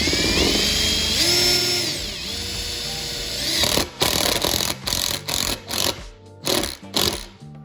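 A power drill drives a screw into a pergola post base bracket, first a sustained whirring run, then a string of short stuttering bursts as the screw seats, close and loud.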